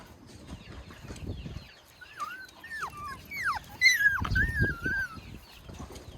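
A small mixed-breed puppy whimpers and whines in a series of high, wavering cries, close by, with soft rustling and handling noises underneath.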